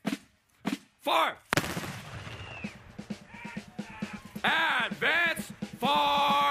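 A musket volley is fired on command at an army birthday twilight tattoo ceremony: one sharp, loud crash that rolls away, with shouted commands before and after it.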